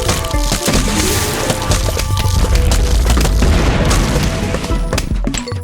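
Cob cannon blasts in Plants vs. Zombies: Replanted, Fog endless mode, land as loud, overlapping booms and splintering crashes in a dense, continuous barrage.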